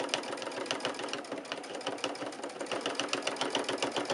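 A sewing machine stitches a quilted pot holder, a steady fast mechanical whirr with rhythmic needle clatter, close and continuous with no talk.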